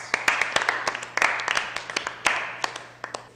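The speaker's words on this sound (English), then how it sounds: "Give her a round of applause." A school talent show audience at Getchell claps for the first performer, a brief scattered round of applause from a modest crowd, fairly close and uneven.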